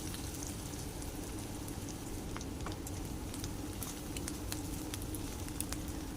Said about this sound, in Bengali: ডালচিনি এলাচ ভাজা হয়ে গেছে তার মধ্যে দিয়ে দিলাম কুচনো পেঁয়াজ কুচনো পেঁয়াজ দিয়ে ভালোভাবে নেড়ে চেড়ে হালকা রং ধরে গেল যাওয়া পর্যন্ত ভাজবো